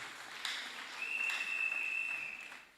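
A church congregation claps and cheers during a French-language service, a steady wash of applause from a crowd with a sustained high tone running through it.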